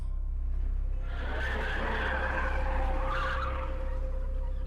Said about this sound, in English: a truck cab came crashing into the parking lot. Came to a screeching halt